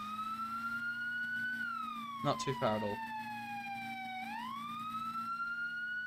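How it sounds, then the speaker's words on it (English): A fire truck siren in the Roblox ERLC game wails in a slow rising and falling sweep over a low engine drone, steady and moderately loud, with someone briefly talking over it midway. "We'll get our siren on."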